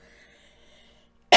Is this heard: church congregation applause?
no